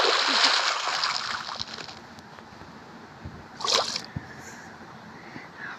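In the Minecraft video game, rushing water splashes loudly at first, then settles into a softer flowing wash with a second burst of splashing midway.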